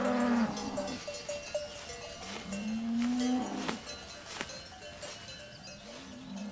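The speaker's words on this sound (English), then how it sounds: "Only now is it warm enough for cows to be brought up to these high pastures." Cattle grazing a high mountain summer pasture, with several deep moos near and far and a clanking cowbell in the background.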